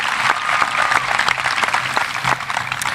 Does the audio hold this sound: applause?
yes